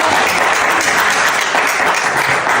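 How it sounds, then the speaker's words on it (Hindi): Steady, dense clapping from a crowd, loud and continuous throughout with no pauses. "तालियां मारो भी तालियां, शाबाश।"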